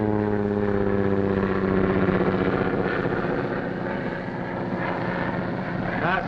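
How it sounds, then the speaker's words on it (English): A 1940s propeller plane passing overhead, a steady droning engine hum with a throbbing tone that holds for several seconds, moderately loud and without speech. "That's only Barton's plane."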